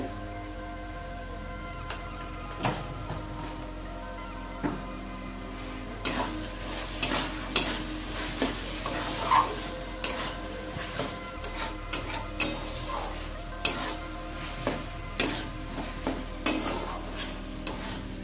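Prawn curry masala made with coconut, poppy seed and sesame paste sautéed in a pan, a low sizzle broken by many sharp, irregular scrapes and knocks of a spatula stirring, close by, with no voices.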